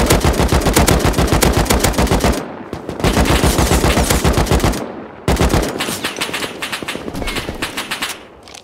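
Rapid gunfire in the survival video game Rust, a sniper rifle among the weapons, dense continuous volleys of loud close shots broken by a couple of short gaps.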